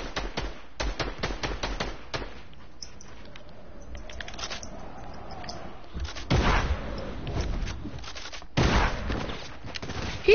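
Gunfire in a shooter game crackles as rapid bursts of sharp shots, dense at first, then sparser, with louder heavy volleys toward the end and no voices over it.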